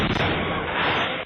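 Amateur Fourth of July fireworks go off in a residential neighborhood street, a dense, loud burst of crackling blasts that packs into barely more than a second.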